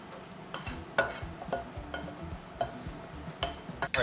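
Mushrooms, onions and garlic cooking in a pan, soft background sizzle broken by repeated sharp clinks and scrapes of a utensil stirring against the pan.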